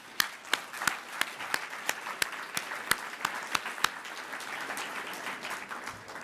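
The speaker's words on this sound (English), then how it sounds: "Just a quick round of applause for all of them." An audience at a 50th anniversary ceremony gives a short round of applause, scattered distinct claps over a light bed of clapping that fades out.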